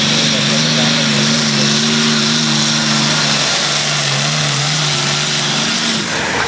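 An engine revs loudly and steadily as a tractor-pulling vehicle starts moving at a pulling event in Tyrnävä, a harsh, continuous roar with a droning pitch that dips midway and then holds, filling the whole scene.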